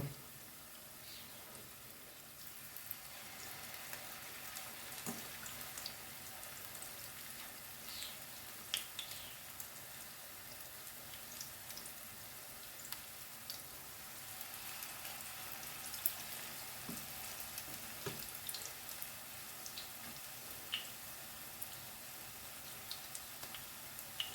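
A faint, steady sizzle of meat patties frying in oil in a frying pan, with scattered soft pops and crackles over a low background hiss.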